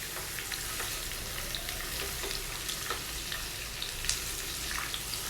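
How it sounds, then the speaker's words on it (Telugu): Beetroot fries in a tempering pan while being stirred, a steady close sizzle with scattered crackles and occasional spoon scrapes, no talking. "బీట్రూట్ అంతా కూడా తాలింపులోకి బాగా కలిసేటట్టు మిక్స్ చేసుకోవాలండి"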